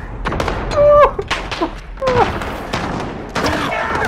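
Bursts of in-game gunfire from a pistol or shotgun in a Modern Warfare 3v3 match, several sharp shots clustered in quick succession with brief gaps between them, fairly close and punchy.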